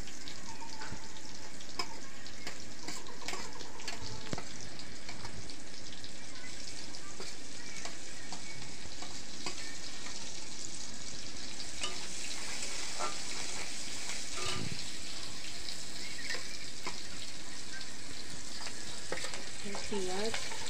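Green chillies and cumin seeds sizzle steadily in hot oil, with loud, close frying crackle and intermittent scraping stirs throughout.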